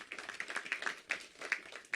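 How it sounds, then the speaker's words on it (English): Audience applause at a groundbreaking ceremony for a recreation center, a scattered, faint round of clapping from a crowd outdoors, with individual claps standing out irregularly. "Please give yourselves a round of applause"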